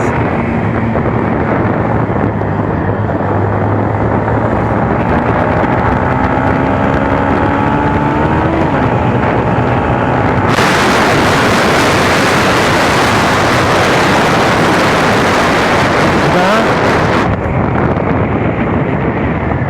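A Motorstar Easyride 150N motorcycle on a ride, its engine revving up through gears under heavy wind buffeting on the microphone, loud and constant throughout, with a burst of rushing wind noise in the middle.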